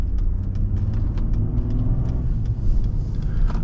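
A 2020 Ford F-150 pickup engine hums low and steady while the truck drives, a smooth, even rumble with faint ticking above it and no talk.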